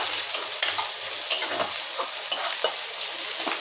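Ginger paste and chopped green chilli fry in hot oil in a kadai while being stirred for a Bengali potato and pointed gourd curry, a steady close sizzle broken by spoon scrapes.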